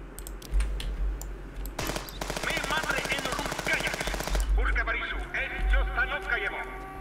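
Rapid automatic gunfire in the video game Contraband Police, a dense burst of shots lasting a couple of seconds amid game engine noise, siren-like tones and keyboard clicks.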